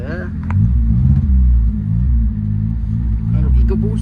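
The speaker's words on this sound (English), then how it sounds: "Hear that Mustang?" A Ford Mustang EcoBoost engine rumbling and revving nearby with deep throaty tone, surging and easing over a few seconds.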